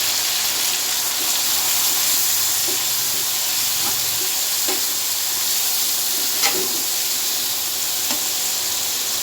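Onions frying in a pan with garlic paste, turmeric and spices, giving a steady dense sizzle with occasional small pops and stirring scrapes throughout.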